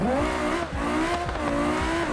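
A rear-wheel-drive Gavril GD808 hypercar in the driving game BeamNG launches hard, its engine screaming upward through rapid gear changes in a loud, close, continuous roar.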